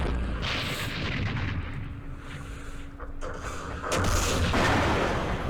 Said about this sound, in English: Oh, the mortars are working yet again.